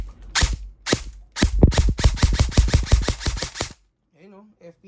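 A DBELL JW3 John Wick gel blaster rifle test-fires a rapid series of about a dozen sharp, loud snapping shots in quick bursts, followed by a short quiet pause with faint background noise.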